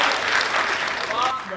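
Applause from the crowd at a Hindi comedy poetry gathering, a steady wash of clapping that holds at an even level throughout with no single voice standing out.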